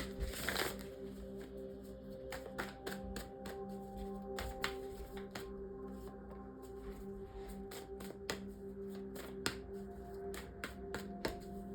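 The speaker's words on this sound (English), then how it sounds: "let's finish off here with some oracle cards" Oracle cards shuffled by hand, a steady run of soft riffling snaps and flicks close up, with a brief louder rustle near the start and no talking.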